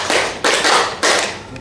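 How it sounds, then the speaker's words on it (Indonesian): A group of adults claps in unison during a school training session, three sharp collective claps spaced evenly about half a second apart, each with a short ringing decay. "Jadi bisa dengan cara kita tepuk tangan."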